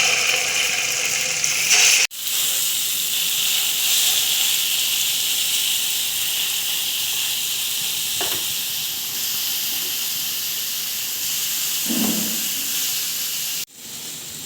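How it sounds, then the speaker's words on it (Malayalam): Masala-marinated chicken fries in hot oil in a pan, giving a steady close hiss of sizzling with a brief cut near the start, a few faint clinks, and no voices. "മസാല പുരട്ടി വെച്ച ചിക്കൻ നമുക്ക് ഫ്രൈ ചെയ്തെടുക്കാം"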